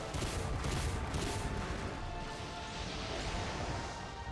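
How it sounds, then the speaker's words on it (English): Video game explosion during a final boss fight, a burst of crashing booms in the first couple of seconds fading into a rumbling tail, moderately loud. "Yeah, sure, that explosion happened"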